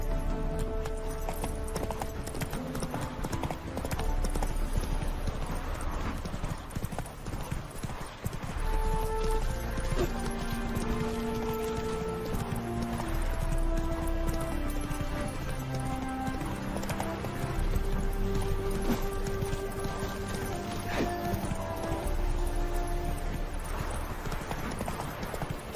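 A horse gallops steadily in The Witcher 3: Wild Hunt, its clip-clop hooves drumming in a fast, continuous rhythm beneath game music for the whole stretch.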